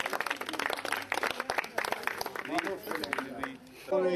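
Spectators at the La Baule polo derby applauding the winning team, a brisk scattering of handclaps from a modest outdoor crowd with someone talking over it.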